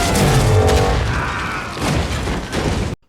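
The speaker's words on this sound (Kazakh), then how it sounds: "Осы жарылыстың арқасында Маршал тастардың астында қалды." A heavy, rumbling explosion fills an animated robot film, a loud, sustained boom with crashing debris that cuts off abruptly.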